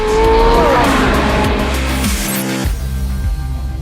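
Porsche sports car launching hard with a sport response power boost, loud engine roar rising through the revs with tire squeal, a quick upshift cut, then the engine pulling on strongly.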